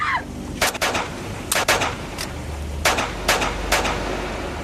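Gunshots at night, a string of sharp isolated cracks in irregular succession, about eight to nine reports spread over a few seconds, over a faint low background hum.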